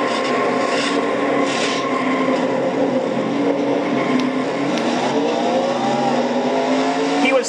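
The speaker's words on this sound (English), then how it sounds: "Let's ride on board with Dalton Day" An on-board race car engine in a stock-car racing video game at Pocono drones loudly and continuously, its pitch climbing and shifting, with rubbing tire scrub layered over it and no voices.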